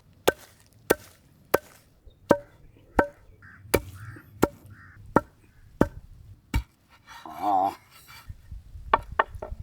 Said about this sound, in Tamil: வறுத்த மசாலாவை இடித்து எடுத்துக்கணுங்கக்கா